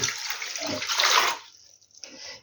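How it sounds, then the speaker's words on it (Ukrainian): Water pours from a tap or jug into a cooking pot in a home kitchen, a steady splashing stream for over a second that tapers off, followed by a brief quieter trickle and a sharp knock at the end. "І зараз ще налью пів літра."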